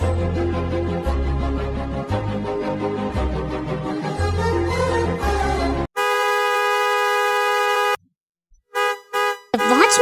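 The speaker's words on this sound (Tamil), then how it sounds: "எவ்வளவு நேரமா வந்து ஹாரன் அடிச்சிட்டு இருக்கேன்" A cartoon car horn sounds at a gate with one long, loud blast and then a few short toots, after a stretch of background music.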